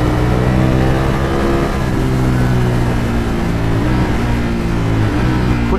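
Ducati Streetfighter V4S motorcycle's V4 engine revving, a loud, steady, close-up throaty drone with shifting pitch as the throttle rises and eases.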